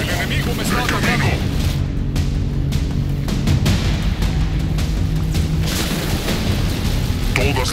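Loud, dense battle noise of rapid gunfire and booming explosions in the video game Halo Wars 2, continuous throughout, with voices speaking over the chaos.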